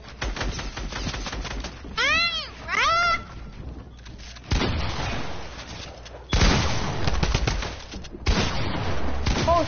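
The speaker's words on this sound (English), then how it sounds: "No way I missed all them AR shots" Assault rifle fire in Fortnite comes through as several bursts of rapid shots, broken up by short pauses and game noise, with a cat meowing twice early on.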